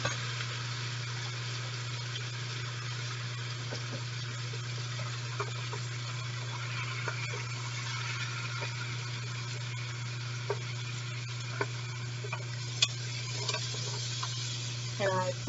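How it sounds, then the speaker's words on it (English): Onions sauté in a couple tablespoons of oil in a pan for a broccoli chowder, giving a steady soft sizzle with occasional stirring clicks and scrapes, under a constant low hum and no talk. "while the onions saute"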